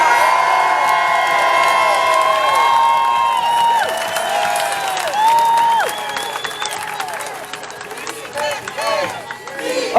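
Montreal protest crowd applauding and cheering police outside the Sûreté du Québec, sustained clapping mixed with whistles and shouts, fading slightly toward the end, with voices throughout.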